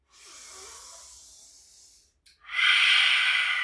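Two deep breaths during a yoga-style breathing exercise: a softer airy breath, a brief pause, then a loud, forceful exhale blown out near the microphone, with no talking.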